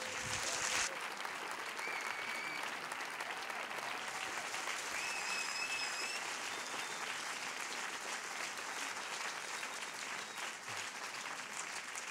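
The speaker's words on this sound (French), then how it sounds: "Mesdames et messieurs, Navy, s'il vous plaît, applaudissements." An audience at a film festival opening ceremony applauds steadily and loudly for the whole clip, the clapping dense and sustained without a break.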